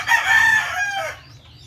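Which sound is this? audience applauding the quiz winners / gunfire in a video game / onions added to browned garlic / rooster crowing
rooster crowing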